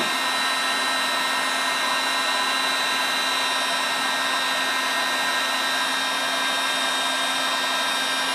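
A hot air blower heats a gear stick shaft, giving a steady, loud, close whooshing roar with a constant motor hum that runs unbroken throughout, with no talk.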